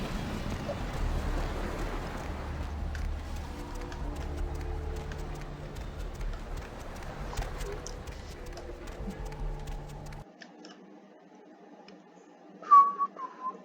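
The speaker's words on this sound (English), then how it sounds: "shouldn't whistle while wearing a mic" A person whistles a tune close into a headset microphone, shrill and steady over a hissy, rumbling background, ending in a few loud sharp whistled notes.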